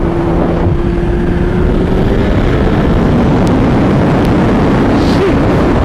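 A turbocharged 315 hp Suzuki Hayabusa accelerates hard, a heavy low roar buried under strong wind rush with a rising engine tone. The sound is loud and continuous, and faint high whistles come through now and then.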